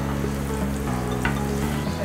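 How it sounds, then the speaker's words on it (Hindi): Grated garlic fries in oil in a pan as part of a Singaporean rice recipe, a steady close sizzle that runs without a break under a busy, crackling texture, with no voice. "अच्छी तरह फ्राई करें।"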